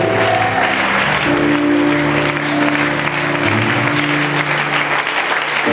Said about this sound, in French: Donne une séance d'acclamation à ce Dieu merveilleux.